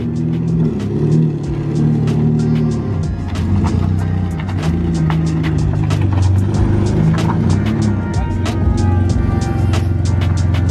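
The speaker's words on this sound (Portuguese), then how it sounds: "como vocês conseguem ouvir, ó, parece que o escape tem uma fugazinha" A drift car engine with an exhaust leak runs nearby in a low, steady rumble, punctuated throughout by rapid sharp ticking puffs from the leaking exhaust.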